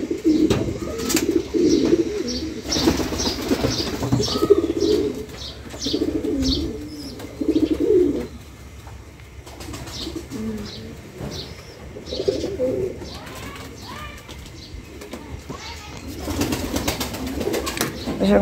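Pigeons coo repeatedly inside a wooden pigeon coop, with soft chirps and brief bursts of wing flapping, close and steady throughout.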